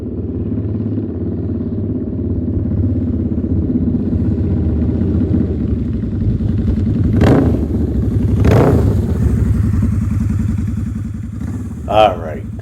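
A Harley-Davidson V-Rod motorcycle, a dragster-styled bike with a superbike engine, rumbles steadily at idle, then revs sharply twice and pulls away with a final loud burst near the end.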